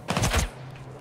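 Rapid burst of gunfire in S.T.A.L.K.E.R. 2: Heart of Chornobyl after switching to single-shot mode, several quick shots packed into half a second, loud and close, followed by a low lingering hum.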